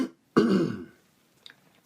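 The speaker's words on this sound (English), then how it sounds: "You guys get to hear me clear my throat today." One close, forceful throat clearing, a rough guttural rasp lasting about half a second, followed by quiet and a couple of faint clicks.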